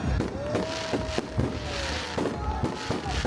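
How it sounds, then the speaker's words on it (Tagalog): New Year fireworks at Mall of Asia in the Philippines crackle and pop repeatedly amid a constant roar of a crowd, with a whistling rocket trail rising through the noisy scene. "Ang ganda ng fireworks nila, in fairness."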